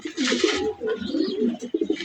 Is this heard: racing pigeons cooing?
yes